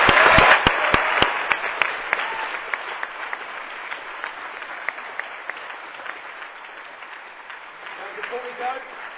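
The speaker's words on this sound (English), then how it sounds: "can we just have one big round of applause for all of our panel members and our proposers?" A round of applause for the panel members and proposers at the Sussex Big EU Debate 2016: a few distinct close claps lead into a steady, moderately loud crowd clapping that slowly thins, with some voices near the end.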